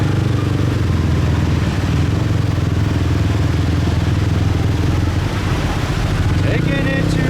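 A motorcycle rides through Saigon streets at night, with a loud, steady engine drone and road rumble up close and the clatter of passing traffic. Speech is mixed in with the engine noise.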